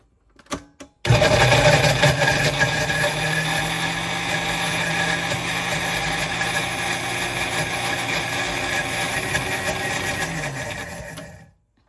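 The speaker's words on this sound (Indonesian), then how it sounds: "Aku blender dulu loh." Blender grinding chili, garlic and ginger in a kitchen, a steady loud whirring motor running about ten seconds after a few brief clicks, then stopping abruptly.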